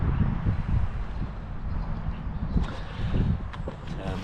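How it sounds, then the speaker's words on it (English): A canoe moving through the river gorge at Iron Bridge, with soft, uneven water wash and dull knocks close by, under broad wind noise on the microphone. "So we're just canoeing through the top end of the gorgey bit in Iron Bridge."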